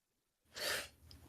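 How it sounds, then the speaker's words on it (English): A single sneeze bursts out in a quiet indoor room, brief and soft, followed by a faint breath, with no talk over it. "I'm just got a sneeze attack."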